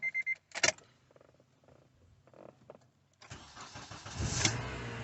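A 2003–2005 Honda Accord with a newly replaced starter cranks briefly and catches, the engine settling into a steady idle close by after some quieter clicks and rustling, with no talking.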